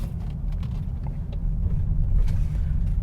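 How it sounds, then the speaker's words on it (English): A low, steady drone with a faint buzz fills the cabin of a 2020 Hyundai Elantra with a CVT while driving, holding even and slightly rising toward the end, with no one speaking. "there's a little buzz sound that you hear inside"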